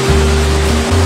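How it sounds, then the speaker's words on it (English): Thunder Creek Falls in New Zealand roars as a loud, steady wash of falling water, with a low hum running underneath throughout. "This is Thunder Creek Falls"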